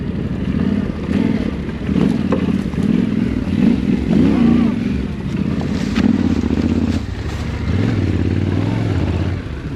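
A group of seven motorcycles pulls away from a rally together, engines droning and revving steadily at close range, with a few low rumbling gear changes and clatter throughout.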